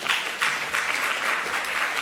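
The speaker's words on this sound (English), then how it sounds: "Clap for yourselves for being here" At an early-career researcher conference, a roomful of attendees claps for themselves, dense applause from many hands swelling in slight waves, fairly loud and close, with no voices over it.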